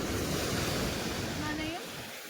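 A roaring wash of surf with wind, steady at first and then easing off, while a voice speaks briefly over it.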